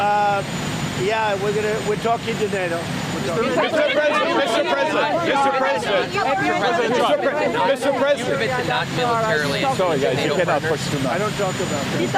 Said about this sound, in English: You could hear the helicopter blades in the background.